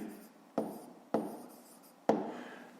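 Chalk or marker strokes on a board during a math lesson, three distinct scratchy writing taps spaced evenly, faint and close, with no speech.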